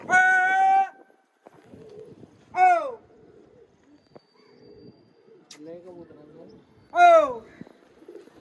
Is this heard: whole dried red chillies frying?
no